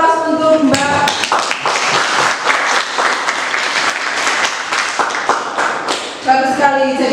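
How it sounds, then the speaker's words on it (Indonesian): Dense applause from students in a classroom, a steady rattle of many hands clapping for several seconds, with a voice speaking briefly at the start and end. "Beri aplaus untuk Mbak."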